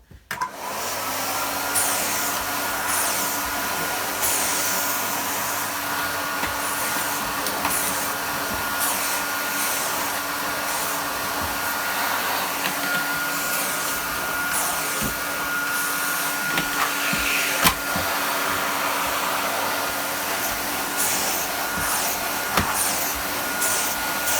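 Vintage 1980s Nilfisk GS90 vacuum cleaner with wands and floor tool fitted, starting up and then running steadily with a loud, continuous whirring motor roar and airflow hiss, alone and close.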